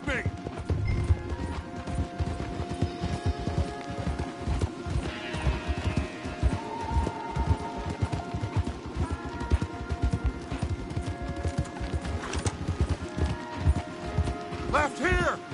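Horses gallop hard in Red Dead Redemption 2, hooves drumming in a steady rapid rhythm with creaking tack and an occasional whinny, while voices talk over the ride and music plays underneath.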